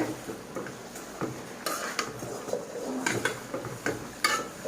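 Spinach greens are stirred in a cooking pot, with irregular scraping and light clinks of a utensil against the metal, fairly quiet and close, and no talking.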